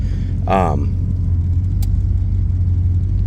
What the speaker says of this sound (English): It's got a nice little rumble, but the engine's quiet.